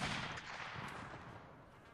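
Black-powder rifle fire at a 95th Rifles battle reenactment, heard as a loud, dense roar of overlapping shots and rumbling echo that fades slowly over a couple of seconds, with no clear talking.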